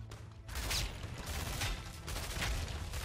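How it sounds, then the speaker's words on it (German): A tower shooting in the video game Heroes of the Storm, heard as a few repeated booming shots and bursts of impact over a dense, busy game mix, moderately loud. "Es ist übel lustig, wenn der Turm einfach nicht mehr schießen kann."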